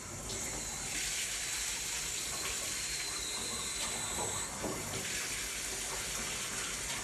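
Water runs from a hot and cold tap, a steady, soft hiss of flow into a sink that lasts throughout.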